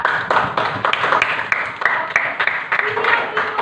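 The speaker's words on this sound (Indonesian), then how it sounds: "Tepuk tangan untuk kita semua." A junior high school class in Pekanbaru, Indonesia, claps hands together in a lively burst of uneven, overlapping claps close by, with voices talking over it throughout.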